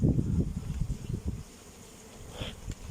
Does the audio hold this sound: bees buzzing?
yes